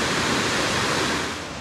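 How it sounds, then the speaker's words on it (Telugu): Taraabu Waterfalls pours down heavily, a loud, dense, continuous roar of falling water close by with no pauses. "వాటర్ చాలా గట్టిగా పడుతుంది ఫుల్గాను."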